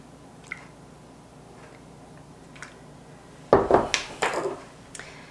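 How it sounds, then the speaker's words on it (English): Ripe bananas mashed with milk for a banana nut loaf: a burst of wet squishing and squelching strokes in a bowl, close and fairly loud, following a few faint ticks. "And mash them all together."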